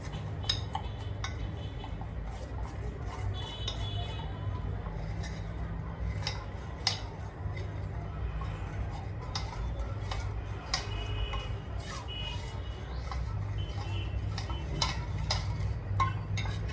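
Spoon stirring cornflour with water and a blended mixture in a bowl for momos, with steady soft scraping and occasional light clinks of metal against the dish.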